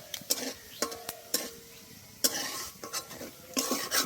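Whole cumin, bay leaf and dried chilli sizzle in hot oil while a spoon stirs and scrapes the pan, with sharp clinks against the metal over a steady frying hiss.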